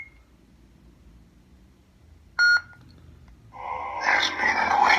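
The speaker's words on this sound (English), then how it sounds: "Press and hold for two beeps." A lightsaber hilt gives a short electronic beep once, followed after a pause by a loud buzzing, crackling hum rising up.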